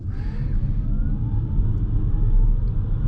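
A 2024 Citroen e-C4X electric car, 130 hp, launched hard from a stop in sport mode at night: loud low road rumble under a rising electric motor whine that climbs steadily in pitch.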